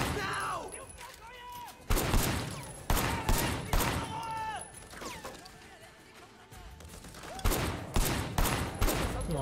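Bursts of gunfire in the open-world action game Sleeping Dogs, several loud sharp volleys scattered across the scene, with shouting voices and other game noises between them.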